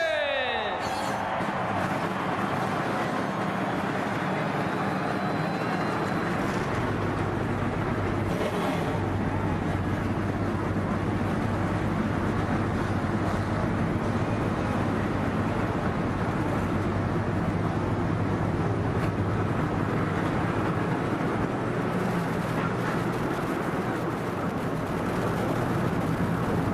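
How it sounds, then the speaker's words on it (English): Forty-three NASCAR Busch Series stock car engines fire up on pit road at Richmond International Raceway, a loud massed roar swelling after the first few seconds and holding as a dense continuous rumble with a voice over it. "43 cars roar to life on pit road here at Richmond"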